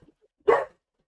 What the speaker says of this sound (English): Sorry, my guard dog is going mad.